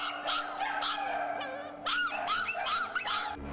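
Dogs at an animal shelter bark, yelp and whimper in a rapid series of high, close calls, several overlapping, with no talking.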